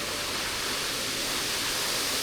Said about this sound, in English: it has a very big waterfall